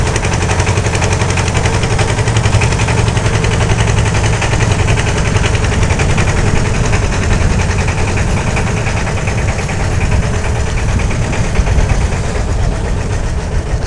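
A ferry boat's engine runs steadily while crossing a river, a constant low rumbling drone with mechanical knocking and vibration, loud and close throughout with no talking.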